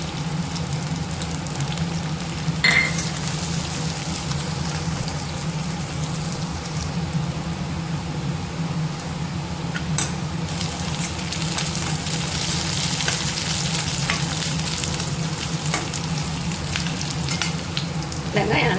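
Small onions, crushed garlic, mustard seeds and fenugreek fry in hot oil for a beetroot kara kuzhambu, a continuous close sizzle and crackle with occasional sharp pops and stirring scrapes and no voices.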